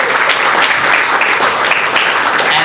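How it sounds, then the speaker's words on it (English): Loud, close applause from an audience honouring someone at a St. Patrick's Day commendation, steady, dense clapping that runs throughout with no talk. "Let's give him a big round of applause."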